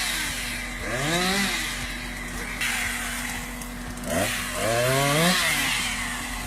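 A chainsaw runs steadily while dangling from a crane, its engine revving up twice in loud rising bursts, with no talking.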